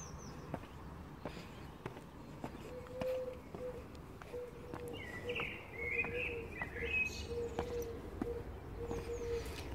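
Small birds sing and chirp in the morning, scattered short calls and a few longer trills, fairly faint over quiet background noise with some soft movement nearby.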